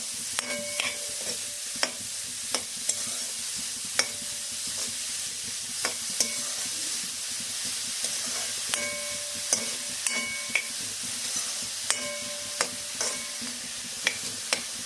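Mushrooms fry in a pan for a mushroom soup, a steady sizzle under regular, distinct metallic clinks of a spoon stirring and scraping every second or so.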